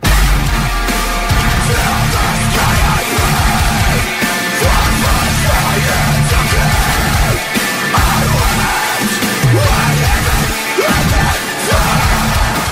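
Loud, dense punk rock music with distorted guitars and pounding drums, heavy and continuous throughout with shouted vocal energy.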